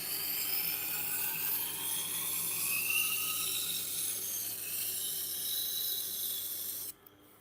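A Japanese kitchen knife being sharpened close up on a whetstone, giving a steady, continuous rasping scrape that stays fairly loud for about seven seconds and then stops abruptly.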